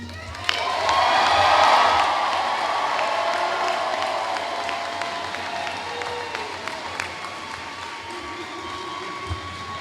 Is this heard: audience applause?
yes